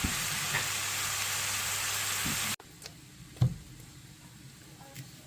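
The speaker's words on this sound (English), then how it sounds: "Now we're gonna cook the burger." A burger patty frying in a pan gives a steady broadband sizzle for about two and a half seconds, then cuts off abruptly, followed by quiet kitchen background and a single soft knock.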